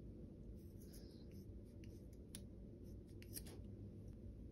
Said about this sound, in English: Now you just cut off your tail.